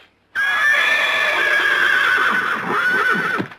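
A horse in a 1965 Western television episode lets out a long, loud, close whinny that rises and wavers for about three seconds, with a hint of hoof movement under it.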